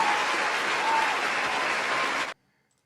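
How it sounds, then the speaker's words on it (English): Canned applause effect played on a livestream: a dense, even wash of clapping and crowd noise holding steady for a couple of seconds before cutting off abruptly into silence. "Where's my applause?"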